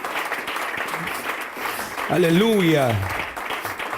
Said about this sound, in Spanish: si le va a aplaudir, hermano, hágalo con todas sus fuerzas